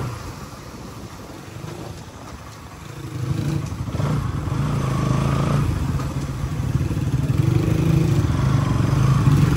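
A motorcycle on a holiday ride along a road toward Hudikot gives a continuous close engine drone with wind rush, growing slightly louder and rougher partway through, with no talking.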